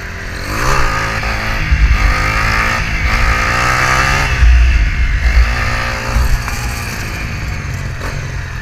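A motorcycle pulling a wheelie on an open road, its engine loud and close, revving and rising in pitch in repeated surges over a constant roar.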